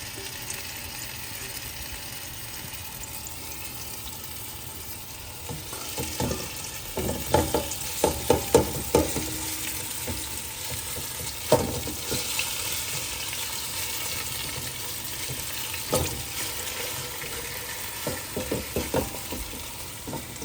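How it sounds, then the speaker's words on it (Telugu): Marinated chicken coated in salt, chili and ginger-garlic paste fries in melted ghee for a chicken pulav, giving a steady sizzle with intermittent scraping and clattering stirs. "ఇప్పుడు చికెన్ని ఇందులో వేసేసుకోవాలి బాగా నీట్గా."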